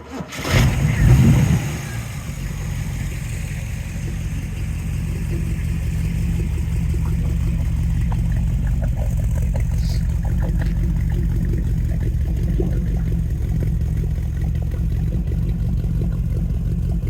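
A 1969 Camaro Z28 original DZ302 V8 engine with chambered exhaust cranks and fires up, then settles into a deep, loud, rumbling idle with a throaty exhaust note that continues steadily.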